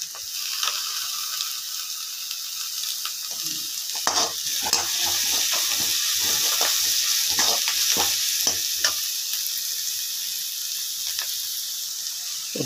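Chopped onions and capsicum sautéing in a pan, an even background sizzle with a burst of busy stirring scrapes and taps in the middle, then easing off, with no speech.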